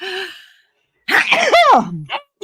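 A single loud, close sneeze bursts out with a sharp rising-then-falling cry, followed by a short vocal trail-off.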